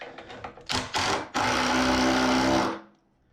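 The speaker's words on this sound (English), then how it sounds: "we're going to snug these up real quick with the impact" A cordless impact driver runs screws into the legs of a cornhole board, several short bursts followed by one long, loud continuous whir that cuts off abruptly, with no talking.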